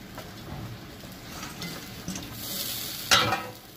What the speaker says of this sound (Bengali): এবার মাছগুলো দিয়ে দেবো সব